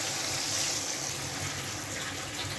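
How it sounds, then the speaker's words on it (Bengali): Water is poured into a cooking pot holding potatoes for a fish curry, a steady, close, rushing gush that runs without a break. "এবার আমি পরিমাণ মতো জল দিয়ে দিলাম।"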